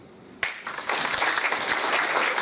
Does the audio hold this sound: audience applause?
yes